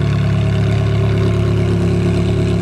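A Ferrari 430 supercar engine fitted with a modified aftermarket exhaust, a loud, steady deep rumble with a sustained throaty drone, close by and without speech.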